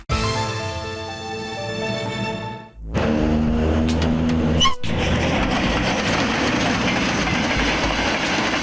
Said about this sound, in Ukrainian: Потяг пішов кілька хвилин і його вже не видно.